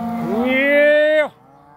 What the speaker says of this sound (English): Those cattle.